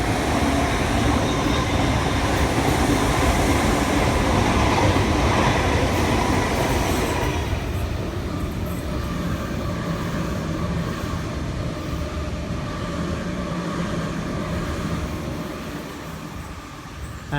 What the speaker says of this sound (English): And there goes A57 Express through platform 2 bound for Macarthur